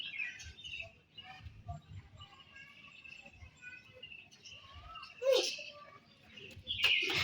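Several birds chirp and call in short, scattered bursts at midday, moderately close, mixed with brief rustles while people talk nearby.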